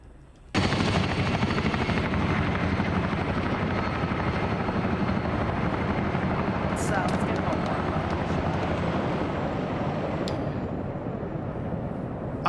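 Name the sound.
Chinook helicopter flying in a video game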